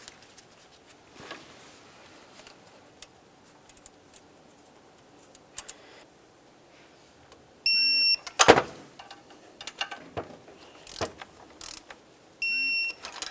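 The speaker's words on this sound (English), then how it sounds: "We'll start on each of those nuts, bottom them out, and torque these to 16 foot-pounds." A hand ratchet clicks in short bursts while the upper EGR tube nuts are tightened on a 2006-2011 Honda Civic, with scattered metallic taps and a louder rattling burst midway, close and without talk.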